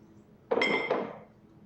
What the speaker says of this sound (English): I'm sure you won't object if I move the ashtray.